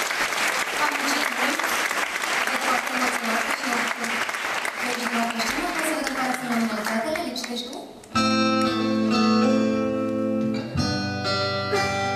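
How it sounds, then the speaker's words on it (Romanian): Loud applause from a gala audience at a women's awards ceremony, steady crowd clapping under a speaking voice, then cutting over to stage music swelling up in the final seconds. "aplaudați"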